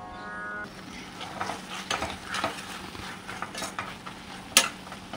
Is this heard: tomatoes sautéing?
yes